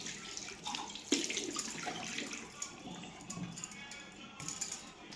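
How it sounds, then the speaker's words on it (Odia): Kitchen utensils are scrubbed and rinsed with homemade Pitambari powder, running water splashing steadily with clinks and scraping of metal dishes close by. "ଏଇ ବାସନ ଗୁଡ଼ାକ ବି ମାଜି ନେବି"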